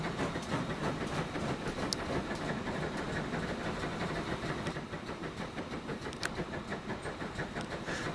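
Train rolling along in Transport Fever 2, a steady, dense rumble with faint rhythmic wheel clatter that holds even and continuous throughout, with no voices.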